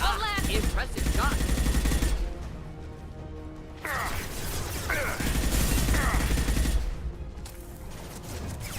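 Bursts of gunfire crack through a video game gunfight, clustered volleys over a busy backdrop of game sound, with quieter stretches between the loud rounds.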